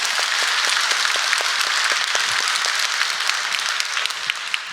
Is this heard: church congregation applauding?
yes